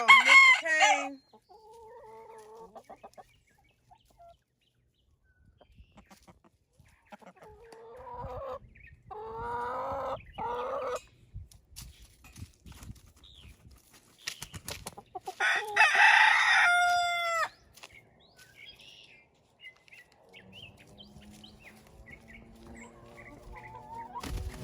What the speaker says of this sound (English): let's take a look at the chickens and see what they up to today.